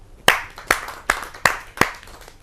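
Five sharp, evenly spaced claps ring out at a kavi sammelan poetry gathering as a poet is welcomed. They are moderately loud, close and steady, with only a faint background between them.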